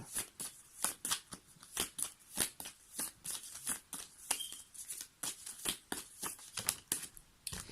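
Tarot cards are shuffled for a reading, making quick crisp riffles and flaps in an irregular series of bursts. The sound is close but quiet, and no one speaks.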